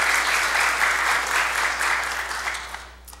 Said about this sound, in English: One more round of applause for our staff, if you would, who have worked hard on today's event.